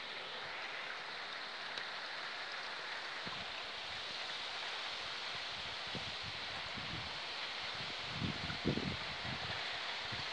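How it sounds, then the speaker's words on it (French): Strong wind gusts sweep through a rainstorm in open countryside, a constant broad hiss of wind and rain with a few heavier buffeting thumps near the end. "ça souffle super trop, enfin ça souffle trop fort."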